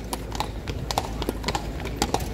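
Horse hooves clip-clop on the pavement of Kraków's city centre, a steady, fairly close rhythm of sharp knocks over street background noise, with a faint murmur of voices.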